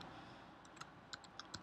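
Quick, light keystrokes on a computer keyboard while a web address is entered into a Chrome browser, a short irregular burst of crisp taps close by over a soft background hiss.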